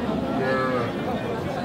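A cow moos once, low and drawn out, at a busy cattle market where a four-tooth milk cow with her calf is on sale. Crowd chatter and voices surround it.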